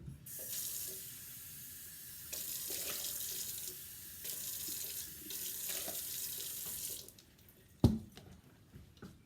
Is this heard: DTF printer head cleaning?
no